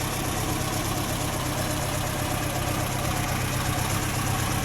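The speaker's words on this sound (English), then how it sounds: "Idling when warm." A warm Ford Cortina 1600E engine idles steadily, a constant even rumble recorded up close with no voices.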